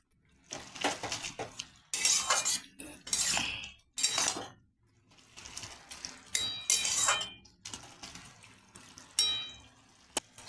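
Lentil dumplings (bori) are stirred into a greens curry in a pot, bursts of metal spoon scraping and clinking separated by brief pauses, close and fairly quiet, with no one speaking.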